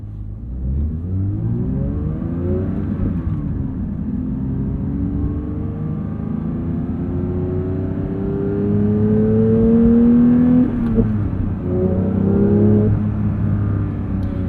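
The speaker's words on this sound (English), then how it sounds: "Who cares about all that stuff when you have a 4-liter flat 6 as a soundtrack?" A 2022 Porsche 911 GT3's 4-liter flat-six engine revs toward 9000 RPM and climbs through the gears, rising and falling in pitch with a loud, continuous growl that swells near the end.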